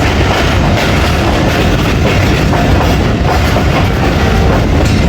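The Rahman Baba Express passenger train, running into Taxila in Pakistan, fills the space with a loud, continuous rumble of wheels on rails, a dense steady clatter with no pause or voices.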